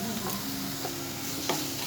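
A spice paste with chili powder fries in oil for a pointed gourd dorma. It gives a steady, soft sizzle with a few scraping stirs from a spoon, close and without voices.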